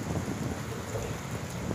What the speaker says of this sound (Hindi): देखिए बहुत भयंकर बारिश हो रही है दो दिन से लगातार कंटिन्यू